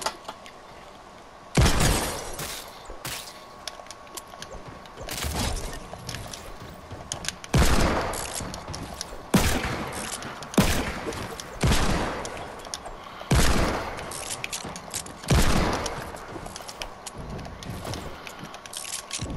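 Gunfire in Fortnite, a revolver among the weapons: loud, sharp shots in rapid bursts every two to three seconds, with a steady background hum between volleys.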